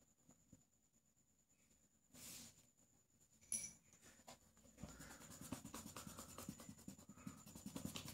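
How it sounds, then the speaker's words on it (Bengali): A pencil draws a 90 degree angle on paper during a geometry lesson, making faint scratchy strokes and light taps in a quiet room, growing slightly busier toward the end. "আমি একটা 90 কোণ আঁকছি।"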